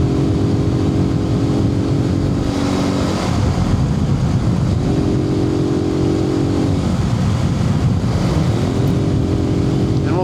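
A 2012 Suzuki TU250 motorcycle cruising in fifth gear on an evening ride, captured from a helmet microphone: a steady, loud engine drone with strong wind rush, a slight rise and fall in pitch, and no talking.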